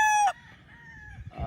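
A stag, a young gamecock on a Philippine farm, gives a short loud crow that breaks off quickly, followed by quieter farmyard background and another call starting at the end.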